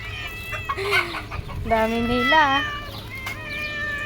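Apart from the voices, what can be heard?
cats meowing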